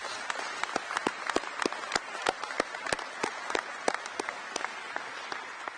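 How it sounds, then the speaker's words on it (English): An audience at Ebbing National Guard Base in Fort Smith, Arkansas applauds National Guardsmen, with steady, dense clapping that holds at a moderate, somewhat distant level throughout. "Let's give them a round of applause"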